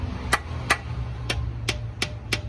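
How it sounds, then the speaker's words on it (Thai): Six sharp metallic strikes spaced unevenly, a hammer tapping a socket into place on a Mitsubishi Triton 4D56 engine during a timing belt change, over a low steady hum. "อันนี้ตอกลูกบล็อกเข้า ตอกวอาเข้าครับ"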